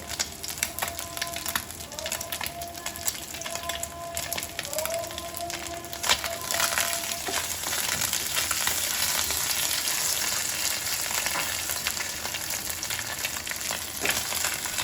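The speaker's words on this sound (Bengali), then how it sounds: "মাছটা ভাজা হয়ে গেছে, তুলে নেব।" Morola fish sizzles steadily in hot oil, a dense crackling hiss close by with occasional clinks of a utensil against the pan.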